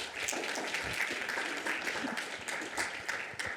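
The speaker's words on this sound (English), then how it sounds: "A round of applause," An audience at an ocean plastics conference panel applauds the panelists with dense, steady clapping throughout.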